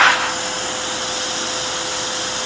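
An XPOWER canister blower on its low setting with only the cone attached gives a steady, even whooshing drone of rushing air, preceded by a brief louder burst at the start, with no voices.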